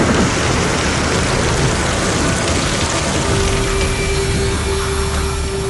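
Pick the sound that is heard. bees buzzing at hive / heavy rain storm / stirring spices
heavy rain storm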